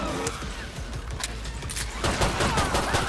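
Steady pistol gunfire in Killing Floor 2: a dense, continuous stream of loud shots and impacts over a noisy game mix, growing heavier partway through.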